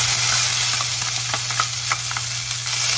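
Onions frying and being stirred in a pan, with a steady hiss of sizzling broken by the scrape and clatter of a utensil moving them around.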